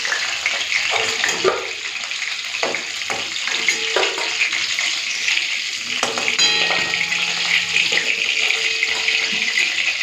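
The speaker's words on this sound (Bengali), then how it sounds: "ঢাকা দিয়ে দিয়ে মাছের মাথাটা ভেজে নেব" A fish head fries in hot oil in a pan, giving steady dense sizzling and crackling throughout, with scattered clinks and stirring noises close by.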